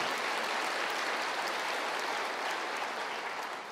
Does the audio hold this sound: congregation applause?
yes